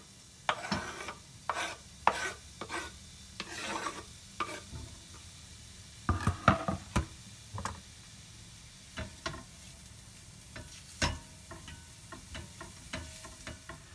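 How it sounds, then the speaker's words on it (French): Two shallots frying in hot olive oil for a tomato-mozzarella risotto give off a soft, steady sizzle, broken by repeated sharp clicks and scrapes of stirring against the pan. "Quand l'huile est chaude, j'y rajoute les 2 échalotes."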